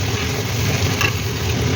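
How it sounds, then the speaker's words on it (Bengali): Spice paste (masala) with a little sugar cooking down in hot oil, giving a steady, close sizzle and soft crackle that holds level. "দিয়ে আবারও ভালো করে কষিয়ে নেব মশলাটা।"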